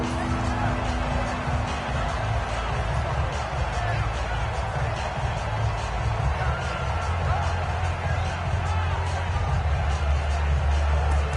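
Stadium crowd noise in a PS4 football video game, a steady, dense roar of cheering and babble throughout, with a commentator's voice running over it.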